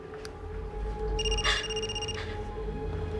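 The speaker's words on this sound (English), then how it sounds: "It's your cell phone." A cell phone rings in an indoor soap-opera scene with a bright electronic trilling tone that starts partway in and repeats, loud and steady over a low room hum, with no talk.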